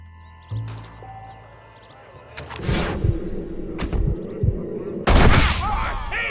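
Gunshots crack out in a Red Dead Redemption shootout, a handful of sharp, loud reports spaced a second or two apart over a low rumbling background.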